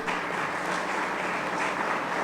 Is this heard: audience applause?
yes